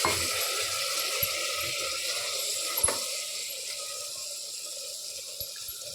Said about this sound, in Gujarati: તો આપણે તેમાં થોડું પાણી ઉમેરીશું